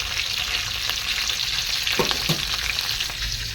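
Green chilli and onion fry in a pan late at night, a steady close sizzle with a couple of sharp stirring knocks, no talking.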